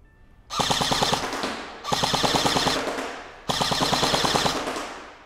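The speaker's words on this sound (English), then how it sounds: "let's put another target up there and we'll move on to fully automatic." Bravo 74u airsoft gun fires fully automatic in three sustained bursts, each a rapid, even rattle of shots lasting over a second, loud and close with short pauses between bursts and no talking.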